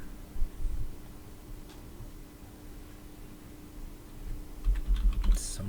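Keys clatter on a computer keyboard: a few quiet keystrokes early on, then a denser burst of clicks near the end, all over a steady low room hum.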